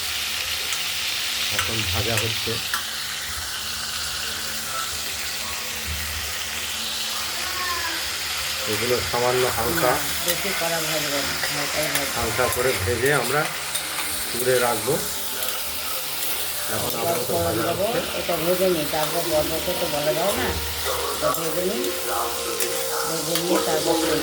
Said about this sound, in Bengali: প্রথমে আমরা বেঁচে রাখা চিংড়িগুলোকে নুন হলুদ দিয়ে মাখিয়ে ভেজে তুলব